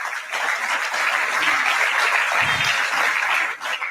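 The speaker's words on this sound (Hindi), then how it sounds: "तो एक बार खुद के लिए जोरदार ताली।" Loud, sustained applause from a seminar audience, a dense wash of clapping that holds steady for several seconds with no voices over it.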